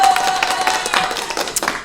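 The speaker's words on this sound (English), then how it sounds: "Clap if you're excited" A workshop audience at a business talk claps in brief, scattered bursts of hand claps, fairly close and lasting under two seconds.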